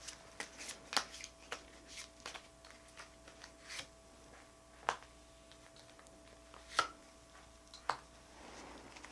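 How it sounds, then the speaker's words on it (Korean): Tarot cards are shuffled and drawn by hand, giving soft, scattered papery flicks and snaps at irregular intervals in a quiet room, with no talking. "이번 카드 제가 2장의 카드를 더 뽑아 보겠습니다."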